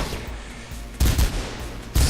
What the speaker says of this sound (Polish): Ciągły ostrzał. To jest to, co lubicie.